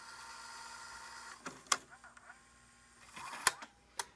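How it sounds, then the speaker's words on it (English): A Tascam DA-20 DAT deck whirs and hums as the tape rewinds, broken up by mechanical clicks and clunks from the transport, quiet and close. "And we're going to rewind the tape."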